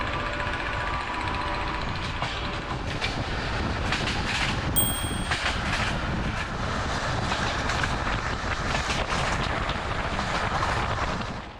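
A passenger train hauled by a British export locomotive on a hot Balkan line rolls steadily on the rails, a broad continuous rumble and rattle with scattered clanks and a brief high whine midway.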